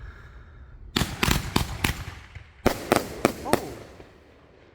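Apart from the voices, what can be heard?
Kiss of Death fireworks by Smoking Alien being set off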